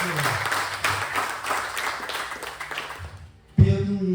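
A church congregation applauds the Lord, with a broad, fairly steady wash of clapping from many people that fades out, then a voice speaks briefly at the end.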